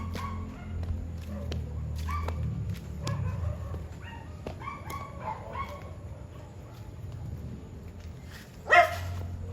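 Scattered Shiba Inu barks and yips ring out repeatedly at moderate distance, with a sharper, louder yelp near the end over steady background noise.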